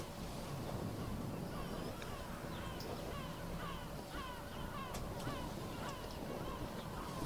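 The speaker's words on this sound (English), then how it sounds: "I notice there's seagulls in this ambience and I'm angry." Coastal ambience: seagulls cry in repeated short calls over a steady wash of waves and wind noise, the birds fairly distant and scattered throughout.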